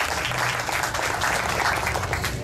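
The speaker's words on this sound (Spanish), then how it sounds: "Fuerte el aplauso para José Manuel Mayén." Crowd applause at the opening of Expo Macorís 2023 in Estadio Tetelo Vargas, San Pedro de Macorís: a loud, continuous wash of many hands clapping, with no break, filling the stadium.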